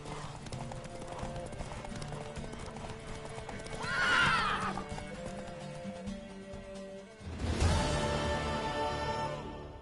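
Horse neighs and hoof clip-clop from The Witcher 3 video game: a shrill whinny near the middle and another loud neigh toward the end, over steady hoofbeats and ambient game sounds.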